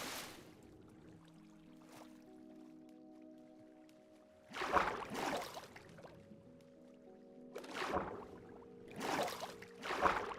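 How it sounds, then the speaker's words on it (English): Flowing water in a video game, with soft trickling and dripping beneath low tonal game sounds, broken by several louder splashing, sloshing bursts that come and go. "All this flowing water is like is moving me around and messing me up"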